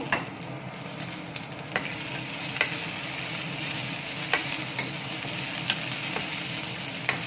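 Garlic, curry leaves and coriander frying in a pan, a dense continuous sizzle with occasional sharp spits and pops spaced a second or so apart, close and steady without speech.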